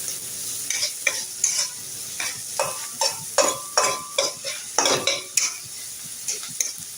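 Chopped onions fry in a pan for a paratha filling while a utensil stirs them in repeated scraping strokes, each stroke a sharp clatter over a soft continuous sizzle.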